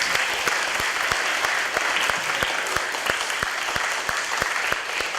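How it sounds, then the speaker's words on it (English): A school audience gives a big round of applause for the team at a children's reading event, with dense continuous clapping from many people and a few sharper, regularly spaced claps standing out nearer. "Let's give them all a big round of applause"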